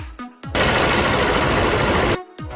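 A car engine idling with engine protector additive added, a steady dense mechanical running sound that starts abruptly, holds loud and even for under two seconds, then cuts off, with brief quieter noise around it.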